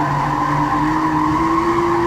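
A 350Z RS race car sliding sideways on track, its tires squealing in a steady, loud skid with the engine droning underneath, continuous and close throughout.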